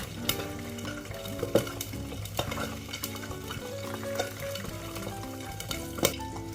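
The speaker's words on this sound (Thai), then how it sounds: "ทอดไปเรื่อย ๆ จนเสียงน้ำมันกระเด็นสงบลง" Steady crackling sizzle of sun-dried fish frying in hot oil, with scattered sharp pops and spatters over a continuous low hiss.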